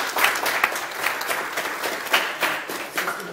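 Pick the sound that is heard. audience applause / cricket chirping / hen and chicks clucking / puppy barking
audience applause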